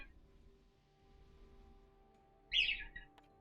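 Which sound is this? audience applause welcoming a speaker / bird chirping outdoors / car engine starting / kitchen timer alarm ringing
bird chirping outdoors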